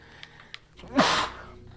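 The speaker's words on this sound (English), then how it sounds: "That was a really bad sneeze." A single sharp sneeze bursts out close up after a couple of small clicks and a quick intake of breath.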